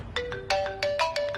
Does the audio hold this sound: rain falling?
no